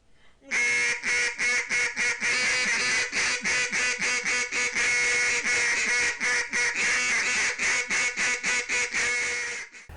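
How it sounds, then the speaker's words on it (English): A duck call blown in a series of loud, rapid, raspy quacks, dozens of close, evenly rhythmic notes running almost nonstop for about ten seconds. "Mr. Rick Nunn does a great job teaching us how to blow a duck call"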